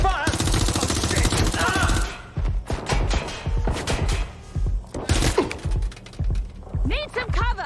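Gunfire in the Watch Dogs Legion video game: a dense, loud automatic burst first, then repeated shots and thuds in short clusters, with voices mixed among them.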